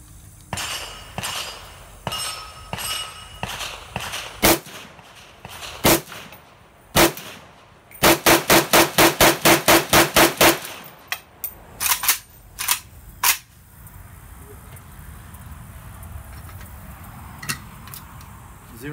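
Arsenal SAM7R rifle firing a magazine at an outdoor range, with sharp cracking shots that start singly and spaced, then come as a fast run of about a dozen, then trail off into a few more scattered shots.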